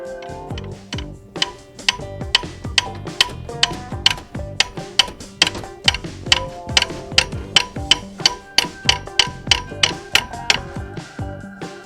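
A wrench ratchets steadily while loosening a drive belt adjuster, giving a fast, even run of sharp metallic clicks, close and clear with no talk.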